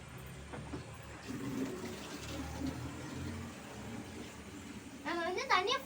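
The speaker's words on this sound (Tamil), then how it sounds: "நம்ம வந்து தண்ணியை ஃபுல்லாக ஃபில் பண்ணிக்கலாம்." Water runs and splashes steadily into a water can, with a voice talking under it and a rising gurgle as the can fills near the end.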